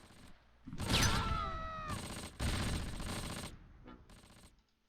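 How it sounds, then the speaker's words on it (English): Mortars fire in the World War II strategy game Close Combat: Panthers in the Fog, heard as loud, sharp blasts that come in bursts, with brief quiet gaps between them. "More mortars going out."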